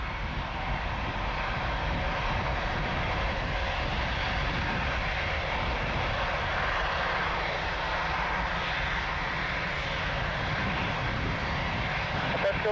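A large airplane taxiing at Lisbon Airport produces a steady, loud, broadband engine roar that holds constant throughout, with voices speaking over it.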